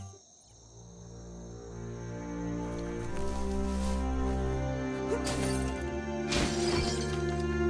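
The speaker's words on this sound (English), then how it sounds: "You shouldn't worry about smashing up the box." A box being smashed up in Biomutant: two crunching, shattering bursts near the end over a steady layer of tonal game music.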